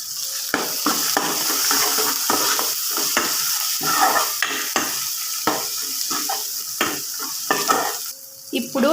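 Chicken masala fries in a hot pan with a bright, steady sizzle while a spoon stirs and scrapes against the metal in repeated strokes, close and busy with no talking.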